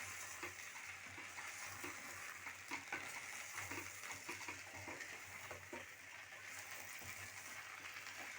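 Steel-cut oats porridge (dalia khichdi) stirred gently in a pan, giving a steady close-up sizzle with soft scraping and light clicking strokes throughout, with no voices.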